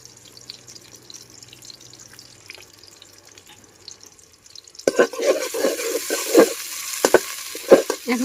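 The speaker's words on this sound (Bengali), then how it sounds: "এখন হচ্ছে এগুলাকে কিছুক্ষণ ভেজে নেব গরম মশলা সহকারে" Onions frying with garam masala in a home cooking pan for a native chicken curry: quiet kitchen background for several seconds, then a loud sizzle begins with repeated stirring scrapes and crackling bursts, no talk.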